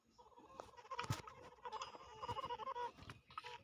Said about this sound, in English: Tick the chicken sound.